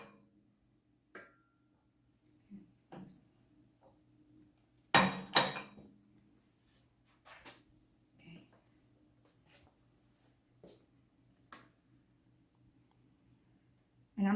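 Cake batter scooped into 8-inch pans, giving scattered clinks and scrapes of utensil on metal and bowl, with one loud clatter midway, close and fairly quiet, and a voice talking in between.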